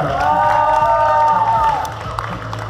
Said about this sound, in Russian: Батл закончен, аплодисменты бегуя!